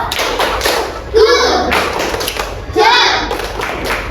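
Children in a classroom give a rhythmic group clap of praise: a few loud thumping claps in a short pattern, with young voices chanting along between the beats.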